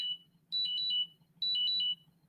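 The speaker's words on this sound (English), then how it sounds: "My alarm went off." An electronic alarm beeps in two quick bursts of rapid two-tone chirps, fairly faint, over a low background hum.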